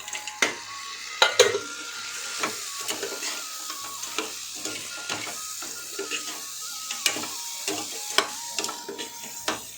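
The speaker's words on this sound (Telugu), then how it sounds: "మనం ముందుగానే ఫ్రై చేసి పెట్టుకున్నాం కదా ఈ అత్తళ్ళు ఇవి ఇందులో కలిపేద్దాం" A spoon clatters and scrapes as pre-fried dried fish is stirred into a simmering taro tamarind curry, with irregular sharp knocks against the pot over a soft sizzle.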